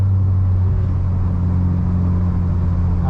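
A Nissan Silvia engine winds out in third gear on a racetrack during a time trial, a loud steady droning hum heard from inside the car with no talk.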